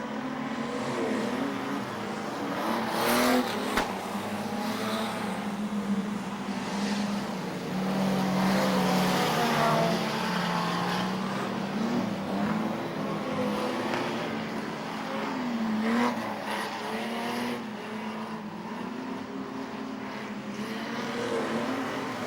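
Modified production cars race around Maryborough Speedway's dirt track, a dense roar of several engines revving and droning together, pitch rising and falling as the field circulates, loud and continuous with no commentary over it.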